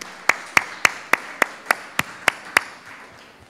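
Sparse, evenly spaced claps from a small audience at a neighborhood raffle, about eight sharp slaps in a steady rhythm that fade out, heard alone without talk.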